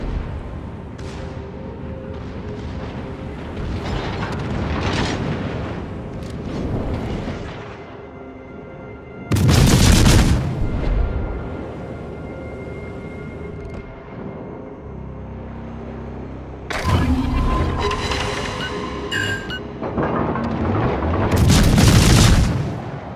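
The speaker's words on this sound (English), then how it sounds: "Concentrate fire on the enemy warship." Warship guns fire in World of Warships during a ranked match aboard the Shimanto, with heavy booming salvos rolling out over a steady engine and sea rumble, the loudest blasts near the middle and toward the end.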